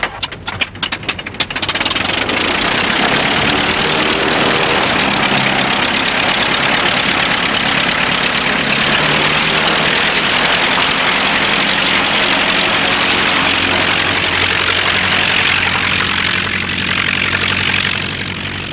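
An old aircraft engine coughs into life with a few sputtering bursts, then settles into a loud, steady, rough idle that runs on for many seconds close by, with no voices over it.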